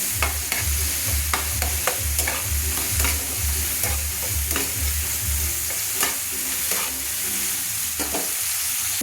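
Spices, tomato and onion, splashed with a little water, fry in oil in a pan for a katla fish masala: a loud, continuous sizzle with stirring scrapes and clicks, over a steady low rhythmic hum, with no talk.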